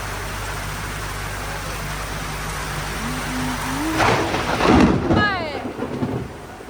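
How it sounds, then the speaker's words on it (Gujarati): Steady heavy rain hisses throughout in Jamnagar, with strong wind and a low rumble of thunder building toward the end and a few faint voices near the close. "તો તમે જોઈ શકો છો કેટલો મસ્ત વરસાદ આવે છે"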